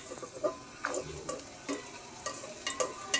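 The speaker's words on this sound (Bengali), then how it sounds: "সামান্য একটু পানি দিয়ে সুন্দর করে মশলাটা কষিয়ে নিচ্ছি" Spice masala with turmeric, chili powder, salt and a little water sizzles softly in a pan for spicy khichuri, a spoon scraping and stirring in short irregular strokes close by.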